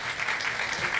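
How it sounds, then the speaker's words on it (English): Audience applause for legislators at an economic forecast panel event, a steady, dense wash of clapping from a room of people that holds evenly throughout. "How about another round of applause for our legislators?"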